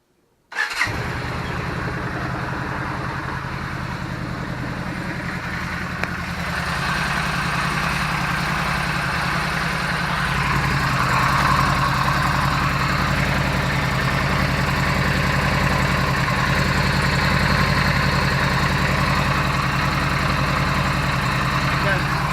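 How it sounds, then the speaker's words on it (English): A Yamaha V Star 1300 motorcycle fires up after an oil change and settles into a steady, loud, close idle rumble that grows slightly fuller as it runs, with no voices over it. "Fire it up, check for leaks."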